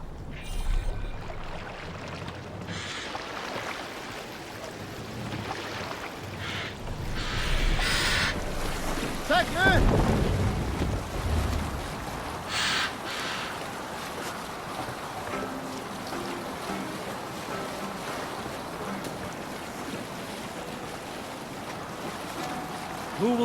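A boat moving over open water in Assassin's Creed Valhalla, with a steady wash of waves and wind and a surge of splashing near the middle, no talking.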